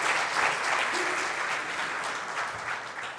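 A church congregation applauds together, a dense and steady wash of clapping that fills the space for a few seconds and stays fairly loud throughout.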